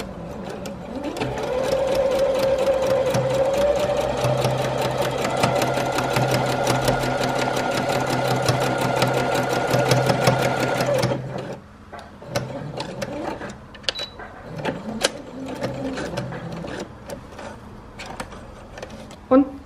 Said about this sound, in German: Das kann ich euch gerade hier zeigen an der Nähmaschine.